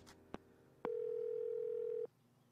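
A telephone dial tone plays in the Gabriel Knight 3 video game: a couple of soft clicks, then a steady, loud single-pitched tone holding for over a second before it cuts off.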